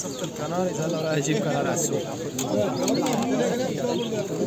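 Songbirds call and chirp in cages at the Edirnekapı bird market, with soft calls threaded through busy nearby conversation and market chatter.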